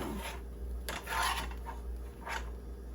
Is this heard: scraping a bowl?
yes